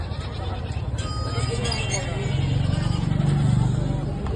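Goats bleating amid the bustle of a large Maharashtra livestock market selling goats, sheep and chickens, repeated calls over a constant crowd murmur and a low rumbling vehicle, with people talking nearby.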